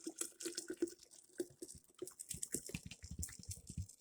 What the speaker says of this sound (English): I'm going to pour the hot water over the tea bag